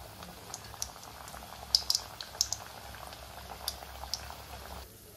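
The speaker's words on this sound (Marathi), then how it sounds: "आता आपण ह्या ज्या कापण्या काढून घेतलेल्या आहेत त्या तळून घेऊया" Jaggery kapanya (shankarpale) deep-frying in oil on a medium flame, giving a soft continuous bubbling with scattered sharp crackles and pops, ending abruptly.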